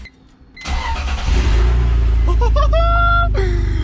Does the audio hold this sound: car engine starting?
yes